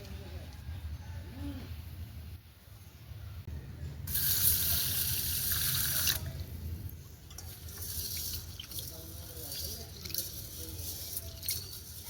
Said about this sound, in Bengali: আমি চালটা ধুয়ে নিই।